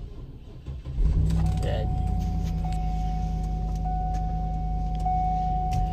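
A Cadillac Escalade engine cranks and catches after a brief starter whir, then settles into a steady close idle hum, with a voice speaking briefly at the start.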